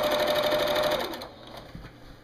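A sewing machine back stitching quilt binding, a fast, close, steady mechanical whir that runs for about a second before stopping, leaving faint handling noise.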